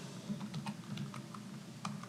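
Several quick, light keystrokes on a computer keyboard, typed in a short burst over a low steady hum, with no voices.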